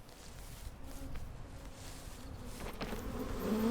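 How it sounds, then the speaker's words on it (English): Bees buzz in the video game PEAK, a continuous droning hum that swells slightly louder toward the end, with faint game ambience beneath and no speech. "I don't know how this works with the bees"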